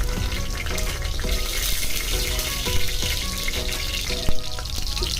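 Pulao ingredients frying in ghee are stirred in a pan, giving a steady loud sizzle with scattered scraping clinks of the spoon throughout.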